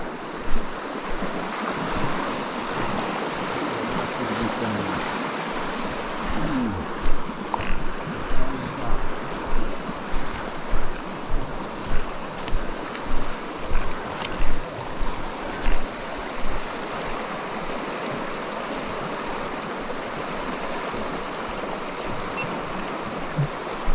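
Flowing river water from the Buchanan crossing in remote Kakwa Provincial Park, British Columbia, a steady broadband rush close by, with a run of rhythmic splashing pulses midway as hikers in water shoes wade through.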